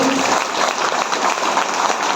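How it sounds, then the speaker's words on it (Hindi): Loud, dense applause from a large crowd honouring a respected teacher, a thick continuous roar of clapping that holds steady throughout with no speech over it. "एक बार जोरदार ताली होनी चाहिए।"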